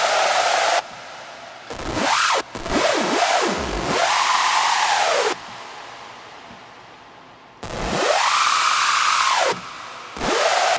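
Synthesizer screech patch built in Spire: loud, harsh noisy bursts with sweeping pitch that rise and fall in arcs, separated by short gaps and one quieter stretch, with no voices.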